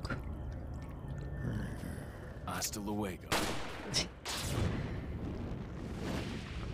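Booming blasts and crackling bursts from Resident Evil 4, with a loud explosion hit near the middle and another a second later over a steady background rumble.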